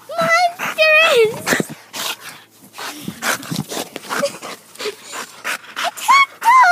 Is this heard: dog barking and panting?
yes